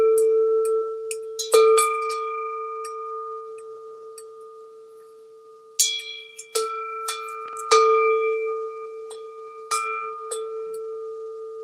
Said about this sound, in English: I'm going to ring my bell one more time before I resume my food meditation.